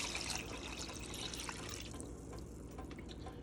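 Broth being poured into a pot of chicken on a high-heat stove, a continuous close splashing trickle of liquid that eases slightly toward the end.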